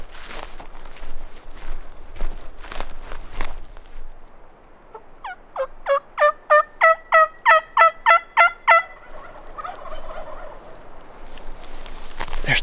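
A wild turkey gobbles in a rapid run of about a dozen sharp, regular pulses at mid distance, followed by softer gobbling and bird chatter amid outdoor rustling, during a spring turkey hunt.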